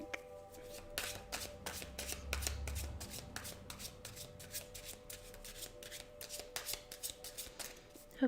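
A tarot card deck is shuffled by hand in a quiet room, with rapid repeated riffling flutters and soft taps in short bursts, close and fairly faint.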